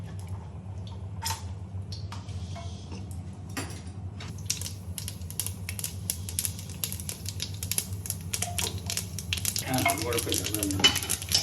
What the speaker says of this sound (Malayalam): അപ്പം കടുക് പൊട്ടി തുടങ്ങി.